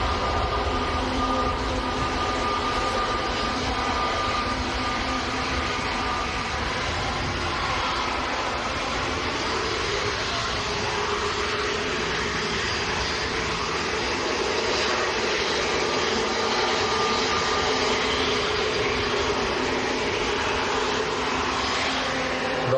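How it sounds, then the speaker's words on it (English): Airbus A321neo jet of EasyJet departing Manchester Airport, a steady broadband engine roar that holds loud and continuous throughout with no talk. "That was EasyJet's brand new aircraft, Golf Zulu X-Ray India Charlie, going down to Tenerife, A321neo."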